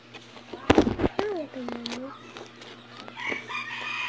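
Game-style chicken clucks and a rooster-like crow ring out amid bursts of cartoonish effects and a loud crackling pop, with some voice underneath.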